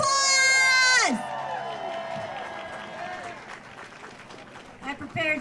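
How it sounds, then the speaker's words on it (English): A crowd cheers at an outdoor protest at Auditorium Shores in Austin, opening with a loud shrill whoop that falls away into scattered clapping and shouts, with voices talking throughout. "Let's give her a loud round of applause."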